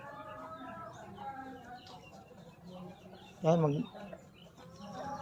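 Chickens clucking at feeding time on a small farm, a loud burst of clucking standing out midway over quieter background activity and faint voices.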